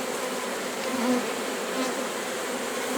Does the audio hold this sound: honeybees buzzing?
yes